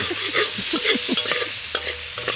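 Chopped onion frying in a pan, a close crackle under repeated stirring scrapes and squeaky spatula sweeps, with no voices.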